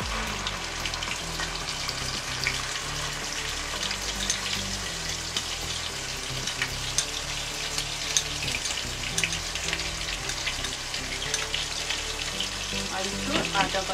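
Garam masala frying in hot oil with onion paste added, a steady, dense sizzle that crackles evenly throughout, close and continuous, with a faint voice in the background.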